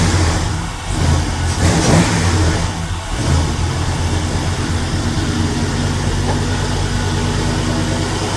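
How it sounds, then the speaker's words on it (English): A 1956 two-door car engine is revved with throttle blips, rising in a couple of quick surges before settling into a steady, loud, rough idle that continues to the end, heard up close with no voices. "we'll see if it'll take a throttle blip and if it dies or not"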